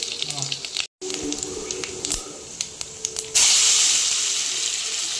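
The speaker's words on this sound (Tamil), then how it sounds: "எண்ணெய் காய்ஞ்சிருச்சு. சீரகமும் சோம்பு மட்டும் போட்டுக்கலாம்." Cumin and fennel seeds drop into hot cooking oil, bursting into a loud, steady hiss and sizzle that starts abruptly partway through after quieter kitchen clatter.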